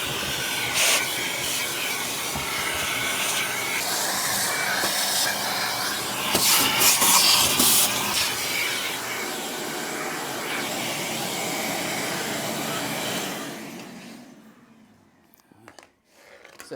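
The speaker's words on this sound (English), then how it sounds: "we're going to take our vacuum again and we're going to vacuum out all these old embers right here" A vacuum cleaner sucking old embers out of a fireplace gives a loud, steady hissing roar with rattling debris for about fourteen seconds, then winds down and falls quiet.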